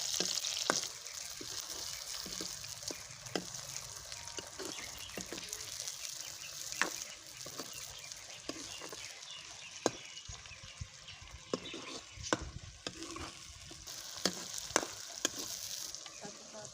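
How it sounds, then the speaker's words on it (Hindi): Onions frying lightly in a pan for chicken karahi, with a continuous close sizzle broken by scattered clicks and pops as they are stirred, no voices. "तो अब हम प्याज को हल्का फ्राई कर लेंगे।"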